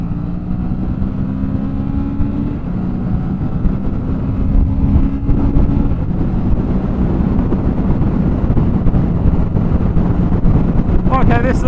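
A Kawasaki Z650 with no windscreen rides at a little above motorway speed, with a constant heavy roar of wind buffeting the microphone over a steady, droning engine hum throughout.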